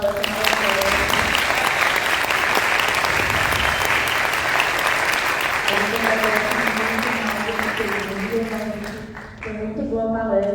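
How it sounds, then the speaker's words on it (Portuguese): Sustained audience applause after a lecture fills the room, a dense wash of clapping that fades slightly near the end as a voice begins talking over it. "Uma salva de palmas para essa palestra maravilhosa."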